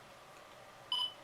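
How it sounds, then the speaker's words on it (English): A Nikon D5600 DSLR camera powering on gives a short, bright electronic beep that chirps once near the end over a faint background hiss, quiet and close. "Firing up the new camera for the first time."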